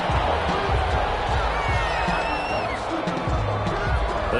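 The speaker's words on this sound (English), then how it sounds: "This home crowd, they're happy with that call." Home crowd cheering and roaring in an American football video game, a dense continuous wash of crowd noise with whistles and shouts, steady and loud throughout.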